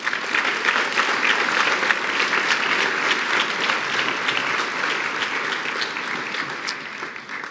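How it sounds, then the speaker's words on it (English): Audience applause at a regional scholarship awards event, many people clapping steadily and fairly loudly in an indoor hall, fading slightly toward the end. "Let's give Marcy a round of applause."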